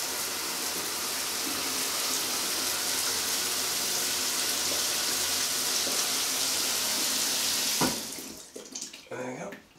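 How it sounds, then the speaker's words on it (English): A hotel shower in a Premier Inn double room runs in a steady, loud, close hiss of spraying water for about eight seconds, then cuts off and leaves a few faint drips and bathroom noises. "Just an idea of the strength of the shower."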